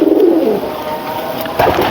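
A pigeon in a loft gives a low, throaty coo close by, a soft warbling murmur lasting about a second against steady background noise.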